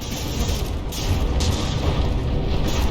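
Shell impacts hit a battleship gun turret in a naval combat video game, heard as a dense, loud, continuous rumble of booms and explosions with sharper crashes layered on top, and no voices.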